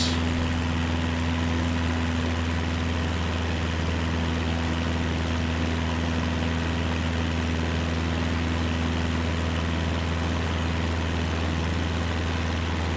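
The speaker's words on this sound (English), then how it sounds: "Just reduce the engine speed a little bit, stop the engine straining so much." Propeller aircraft engine straining during a climb in Microsoft Flight Simulator 2024, a steady, loud, unbroken drone with a deep hum, continuing unchanged throughout with no talking.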